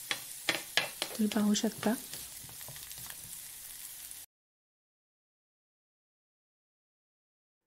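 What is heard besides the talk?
spring onion greens frying in oil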